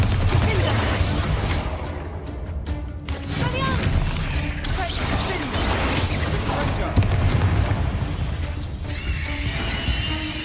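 A Bombarda blasting spell in Hogwarts Legacy sets off a loud burst of explosive cracks and crashing debris, followed by clattering impacts and magical shimmer, mixed with a character's voice.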